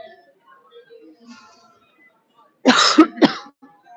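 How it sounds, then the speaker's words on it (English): A person coughs twice in quick succession on a tour inside Prague Castle, near and sharp. Faint background murmur comes before the coughs. "Sorry for coughing."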